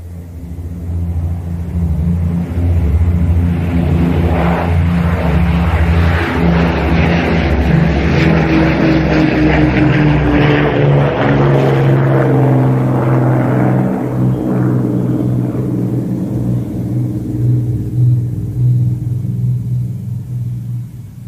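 A propeller aircraft engine drones loud and close in a radio drama production, a thick continuous rumble with a throbbing low roar that swells slightly midway and holds steady throughout, no voices over it.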